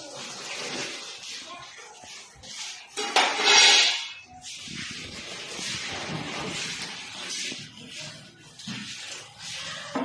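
Metal utensils from a builders' welfare kitchen utensil set clatter and clink as they are handled, with one louder scraping rattle, under intermittent talk.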